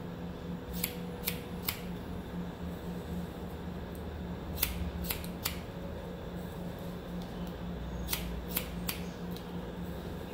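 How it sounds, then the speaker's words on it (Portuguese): Scissors snipping through very thick, coarse, tightly coiled hair during a haircut, with sharp close cuts in small clusters over a quiet steady background hum. "Olha o barulho da tesoura."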